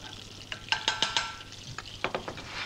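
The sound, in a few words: clarified butter heating in a non-stick pan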